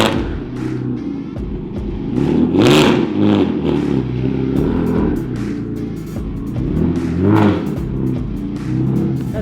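BMW 335i with a single turbo accelerating hard under boost, a loud close engine roar climbing through revs in repeated pulls with brief dips between them, no talk.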